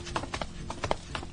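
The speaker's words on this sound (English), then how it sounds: "the walking sound effect that they use sounds like horses galloping" A walking footstep sound effect resembling galloping horse hooves: a quick, steady clip-clop rhythm of hollow knocks, fairly faint and heard alone.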